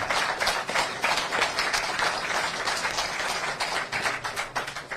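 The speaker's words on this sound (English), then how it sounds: "give a round of applause for that" Sustained applause from an audience at a live football club fans forum, a dense, steady crackle of many hands clapping that stays loud from start to finish.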